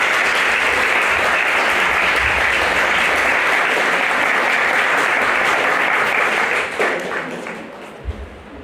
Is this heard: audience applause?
yes